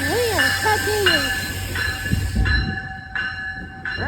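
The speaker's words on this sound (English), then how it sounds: "Here comes the VRE train to Union Station." A VRE commuter train pulls into L'Enfant Plaza station, with loud squealing brakes and wheels, a steady hum, and repeated metallic screeches as it slows close by; voices talk briefly near the start.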